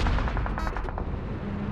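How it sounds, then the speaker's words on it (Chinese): Gunfire in the mobile battle royale game PUBG Mobile, heard as a short cluster of rapid, sharp shots in the middle, set against a steady, busy game soundscape. "他又开枪"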